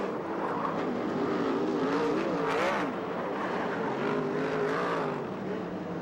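Sprint cars race around a track at a USAC/CRA event in Ventura, California, their engines a continuous roaring drone that rises and falls in pitch as the cars circle past, with no talk.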